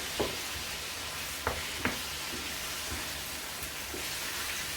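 Eggplant mixture with spices being stirred in a pan, a soft continuous sizzle with a few faint scraping knocks of the utensil scattered through.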